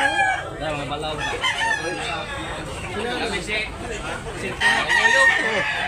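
Gamefowl at a Cebu farm, including a white-legged kurmay rooster, crow amid overlapping clucks while people talk nearby throughout.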